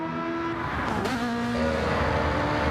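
Race cars overtaking in Gran Turismo 7, a loud, steady high-pitched engine whine with engine notes that shift in pitch as one car passes another, a brief burst partway through, no talking.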